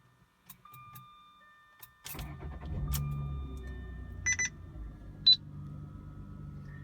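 A 2007 Jaguar X-Type's 3.0-liter V6 cranks and catches with a sudden rumble, then settles into a steady low idle close by, after faint key clicks and a chime, with a few high electronic beeps sounding over the running engine.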